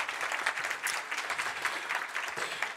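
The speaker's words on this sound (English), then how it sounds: "We give Anna a big applause." Audience applause at a cyber and privacy conference, dense steady clapping from a seated crowd, moderately close and continuous with no talk over it.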